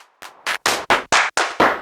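Claps from the Synthstrom Deluge factory sample folder, played one after another as eight short, sharp electronic hits, dry and punchy, each a bit brighter and louder than the last, with no other sound between them.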